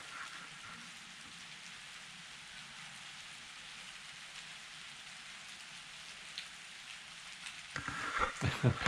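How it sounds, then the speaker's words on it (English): Steady, heavy rain pours down in a continuous hiss, with a few louder splashes and knocks near the end. "if you can hear, it is pouring rain."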